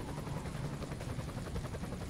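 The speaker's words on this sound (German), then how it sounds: "Rettungshubschrauber rettet den jetzt." A rescue helicopter in the emergency-services video game Emergency 20 gives a quiet, steady rotor thrum with faint rhythmic chopping, heard alone without talk.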